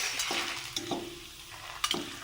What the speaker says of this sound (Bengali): পাঁপড় ভাজা হচ্ছে